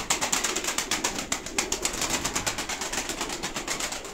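Domestic breeding pigeons in a loft give off a steady, fairly loud stream of soft cooing and fluttery rustling, with no voices present.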